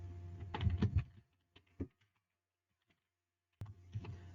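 Typing on a computer keyboard while entering text in Microsoft Word: a quick cluster of soft key clicks, a few isolated taps, a silent pause, then another short burst of keystrokes, quiet and close.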